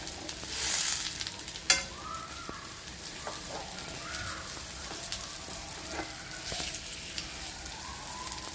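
A semolina-and-banana snack sizzles in hot oil in a pan as the pieces are turned over, giving a steady frying hiss with a light clink of a utensil and soft bursts of bubbling.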